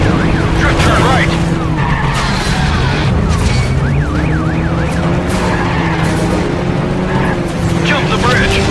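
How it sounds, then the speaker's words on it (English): A car drifts through a right turn in the stunt driving game Stuntman: Ignition, its tyres screeching in a loud sustained skid over a droning engine, with a wailing siren and busy game sound around it. "Drift turn right."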